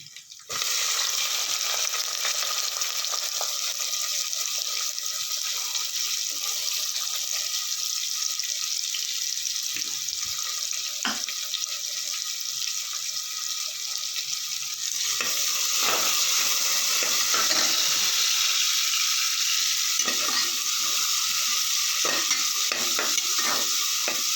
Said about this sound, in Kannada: ಇದಕ್ಕೆ ನಾನು ಈರುಳ್ಳಿ ಹಾಕೋತಾ ಇದ್ದೀನಿ